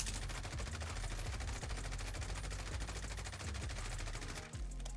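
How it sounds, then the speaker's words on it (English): An M4A1 assault rifle in the game Warzone firing a sustained full-auto burst, a dense rapid stream of loud shots with no pauses, briefly cutting off just before the end. "So here we go, M4A1 recoil pattern."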